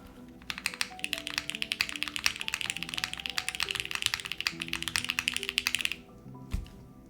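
Typing on a custom Vertex Arc60 mechanical keyboard fitted with Cherry stabilizers, a dense run of sharp, close clacks in quick uneven rhythm for about six seconds, then a pause and one final thunk.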